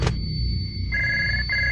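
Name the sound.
telephone ringing, sound effect in a ghost story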